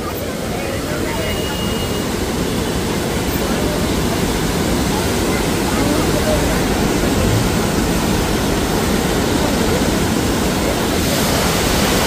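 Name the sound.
roaring flooded Godavari river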